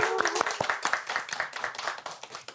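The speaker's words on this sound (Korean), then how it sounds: "신부님을 박수로 모셔보겠습니다." An audience at a Catholic senior academy lecture claps to welcome a priest, with brisk, close, crowded handclaps in a short burst.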